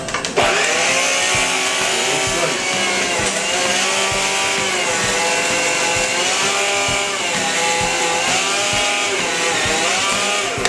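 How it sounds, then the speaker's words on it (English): A motorized meat slicer whirs continuously and loudly through a block of cheese, its steady high-pitched drone holding for the full stretch with only slight shifts in pitch as the blade cuts. "Before I start slicing, I wet the blade of the slicer to help it have less resistance when I cut the cheese."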